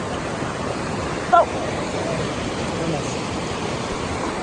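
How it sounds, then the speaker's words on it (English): A mountain stream, Miners Creek in the White River National Forest, rushes steadily beside a busy trail as a continuous broadband wash, with a brief exclamation from a person partway through. "Now we're walking along Miners Creek."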